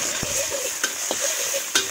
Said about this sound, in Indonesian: Nasi goreng gula, kita masukkan telur dulu.